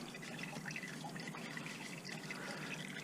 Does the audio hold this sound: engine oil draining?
yes